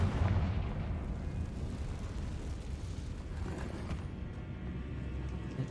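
A Confringo blasting spell in Hogwarts Legacy lands as a deep rumbling explosion that opens with a heavy boom and rolls on as a dense roar, fading slightly over several seconds.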